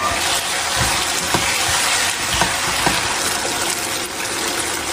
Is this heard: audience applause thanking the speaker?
no